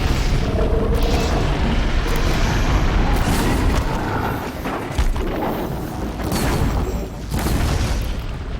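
Repeated fiery explosions burst in Horizon Zero Dawn's snowy Frozen Wilds, a dense sequence of loud booms and crackling blasts rolling one after another, close and heavy, with no talk.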